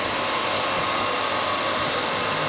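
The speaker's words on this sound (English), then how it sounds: "Now the veneers are cut in length." A machine trims drum veneers to length in a drum-making workshop, giving a continuous loud whirring, hissing mechanical drone with a faint tonal hum across the short stretch, with no talking.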